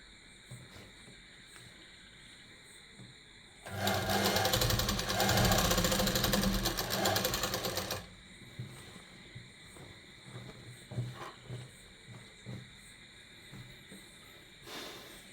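A sewing machine stitches the pocket seam of a gents' kurta, a loud continuous whirring run of about four seconds, then quieter intermittent ticks and taps from the machine.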